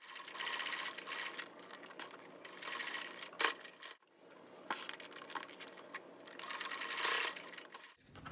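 A sewing machine runs in quick rattling bursts while stitching down the edges of a quilted pencil case, pausing briefly near the middle and stopping with a soft thud at the end.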